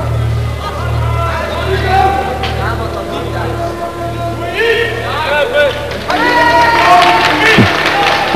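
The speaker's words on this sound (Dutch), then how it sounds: "Enthousiast publiek." Spectators at a 1983 Kyokushinkai karate tournament in Alkmaar clapping and cheering enthusiastically, a rising burst of applause and crowd noise under a commentator's steady talk, with a low hum beneath.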